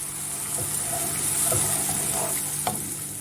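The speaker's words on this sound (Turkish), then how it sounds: "soğanlarımın üzerine rendelemiş olduğum bir tane domates ilave ediyorum" Grated tomato going into onions frying in a pan, with a steady close sizzle and a few soft stirring scrapes and wet clicks throughout.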